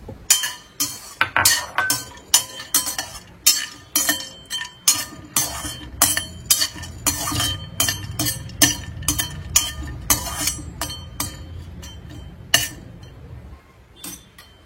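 Cashew nuts roasting in a pan for kesari payasam, with a spoon repeatedly clinking and scraping against the metal in a steady, close stirring rhythm, a faint frying hiss underneath, and no talk.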